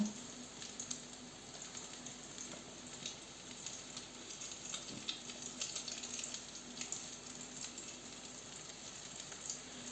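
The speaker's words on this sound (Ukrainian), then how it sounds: "і на сковородку, на пательню. Так само будемо смажити їх." Zucchini slices dipped in egg fry in a pan with a steady, close sizzle and fine crackling spatter throughout, no voices over it.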